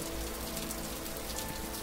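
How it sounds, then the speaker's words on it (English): Steady rain patters densely on a surface, a constant even hiss with no voices, used as a story sound effect. "one day, it started to rain"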